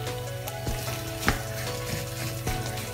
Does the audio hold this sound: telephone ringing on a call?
no